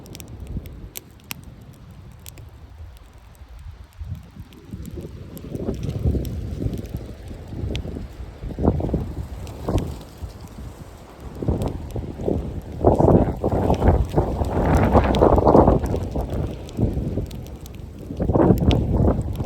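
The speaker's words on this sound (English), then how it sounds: "the wind is real" Strong wind batters an outdoor microphone in loud, rumbling gusts that swell and fade, with a steady hiss beneath and occasional sharp buffeting thumps, and no voices.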